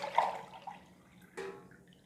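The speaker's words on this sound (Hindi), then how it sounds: "अभी इसमें और पानी डाल रही हूँ।" Water pours into a pressure cooker holding mustard greens for a Punjabi sarson ka saag, with a soft splash, a quiet pause and a second brief gush, faint and close in a kitchen.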